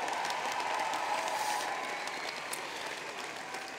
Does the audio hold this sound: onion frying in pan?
no